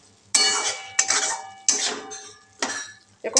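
A metal spoon mixing a dry curry filling for mini Mughlai paratha in a pan, making four or five sharp clanks and scrapes against the pan at an uneven rhythm, each ringing briefly, close and clear with no talk.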